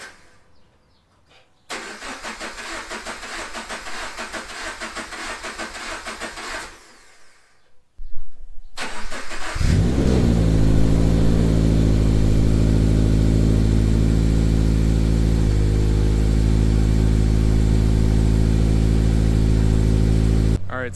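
A car engine cranks and fires up after sitting unused for five months, following a loud whirring hum, then settles into a steady, loud idle that continues alone.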